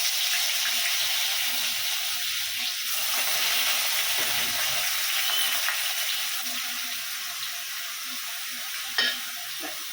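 Onion paste frying in hot oil in a pan for a Bengali egg-fritter curry, a steady loud sizzle and hiss with faint stirring scrapes and a brief clink near the end.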